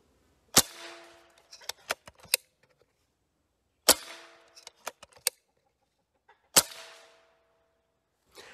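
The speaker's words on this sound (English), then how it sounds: "compare that to another gun that hasn't had the depinger installed yet" Three sharp, loud shots from a Benjamin Bulldog air rifle with no de-ping accessory fitted, each followed by a ringing metallic ping that decays quickly and a few softer clicks and clatters of handling between shots, with no talking.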